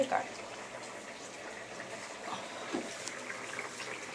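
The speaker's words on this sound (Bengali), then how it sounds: "এই দেখো কাতলা মাছের ঝোল হচ্ছে" Katla fish curry with potato and vegetable stems boiling in a pot, giving a soft, steady bubbling hiss that stays faint and even throughout.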